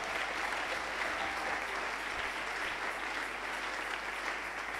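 A church congregation applauds during a worship service, a dense, even wash of many hands clapping together, steady and loud for the whole stretch with a faint murmur of voices beneath.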